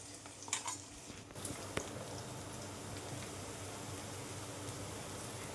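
Onion sautéing and being stirred in a pan for a Marathi-style capsicum dish, a soft steady sizzle with a few scraping stir sounds near the start, quiet and close with no talking.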